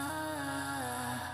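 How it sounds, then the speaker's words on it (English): A dense synth loop with steady tones and a pulsing low beat, an auto pan effect sweeping it gently back and forth between left and right, continuous throughout. "I'm going to turn on this Auto Pan,"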